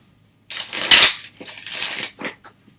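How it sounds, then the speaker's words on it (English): Tarot cards being shuffled by hand, a close, crisp riffling burst followed by a few softer shuffles and taps, with no talking. "Alright, let me shuffle again."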